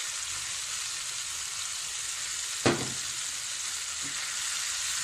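Aloo manchurian with tomato ketchup sizzles steadily in a hot pan, a continuous frying hiss broken by one sharp scrape or clink of the spoon midway and a fainter knock later.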